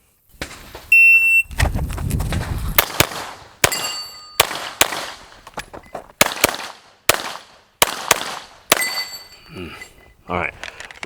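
Glock 17 pistol fired at steel targets: a string of sharp, loud shots at a brisk, slightly uneven pace, each followed by a ringing metallic clang from the struck steel.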